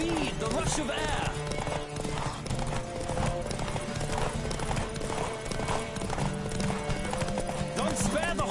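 Galloping hoofbeats from a horse race in The Witcher 3 pound in a fast, unbroken rhythm up close, with a whinny-like snort and voices calling out over the running.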